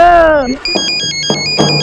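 A short sung note gives way to a bright, melodic phone ringtone with repeating beeping tones, fairly loud and close.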